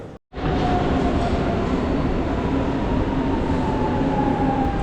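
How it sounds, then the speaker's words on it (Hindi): A train rumbles at a large station platform in Portugal, a loud, steady low roar of wheels and motors with a faint tonal whine running throughout, heard close and without talk. "ये ट्रेन प्लेटफॉर्म है गाइस और ये ट्रेन भी आ चुकी है।"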